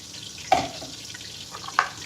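Water from a kitchen tap is added by the cupful to a batter of eggs and oil, heard as two short splashy bursts about a second apart with a faint wash between them.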